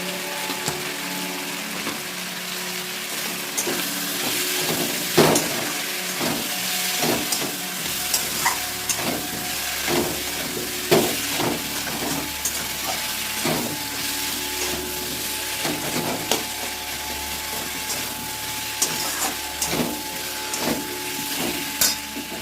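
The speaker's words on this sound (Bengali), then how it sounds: "আমি আলুটা কষিয়ে নেবো বন্ধুরা হলুদ দিয়ে দেবো" Potatoes fry with turmeric in a pan for a pangas fish curry, giving a steady close sizzle and hiss with scattered small pops and crackles throughout, no voices.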